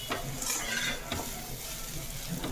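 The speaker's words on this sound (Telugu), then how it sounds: "కలబెట్టుకుంటూ వేయించుకున్నామంటే పైన కూడా మసాలా అనేది కోటింగ్ అయ్యి బాగుంటుంది" Masala-coated bitter gourd fries in a pan while a utensil stirs it. A steady close sizzle runs throughout, with scraping strokes and small clinks against the pan, and nobody speaks.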